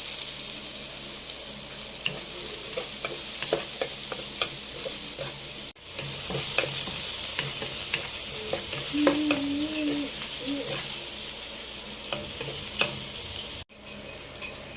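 Chicken with garlic and onion cooks in a pan for sopas, bubbling and sizzling steadily up close, with scattered clinks of stirring and two abrupt cuts.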